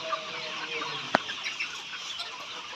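Hens at a layer poultry farm give soft, scattered clucks at moderate distance over a steady background hum, with one sharp click partway through.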